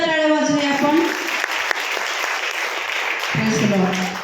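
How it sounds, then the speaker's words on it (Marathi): A church congregation claps together at a worship service, a dense wash of many hands filling the room, with voices and music-like tones at the start and end. "जोरदार टाळ्या वाजवूया आपण"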